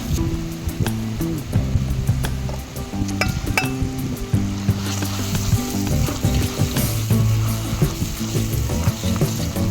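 Marinated wild boar meat sizzles in oil with a spice masala. A continuous loud frying hiss runs throughout, broken by clinks and scrapes as the pan is stirred.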